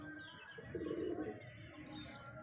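A breeder male pigeon with clipped wings, kept indoors at home, gives a soft, low coo lasting about half a second, faint against quiet room noise.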